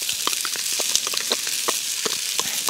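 Vegetables frying in a pan over a dying campfire in the woods, a steady close sizzle broken by frequent sharp crackles and pops.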